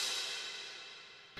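A single bright crash cymbal from an 80s synthpop drum kit, drenched in Ableton reverb, bursts loudly and washes out in a long shimmering decay before cutting off abruptly, with no other sound.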